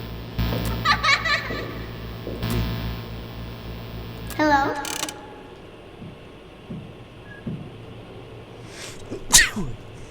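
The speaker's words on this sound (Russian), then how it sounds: "Чихнул." One sharp, close sneeze bursts out near the end, after stretches of talking and scattered background noises.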